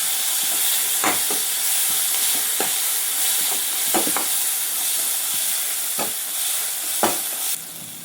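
Tomato, capsicum, onion and carrot fry in hot oil for idli manchurian, a steady close sizzle with scattered stirring scrapes and clinks of a spoon in the pan.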